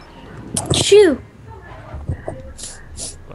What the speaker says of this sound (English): It was a fail sneeze.